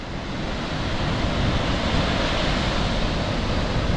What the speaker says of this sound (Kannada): ಅದ್ರದ್ದೇ ನೀರು ಹರ್ಕೊಂಡು ಹೋಗ್ತಾ ಇರೋದಲ್ಲಿ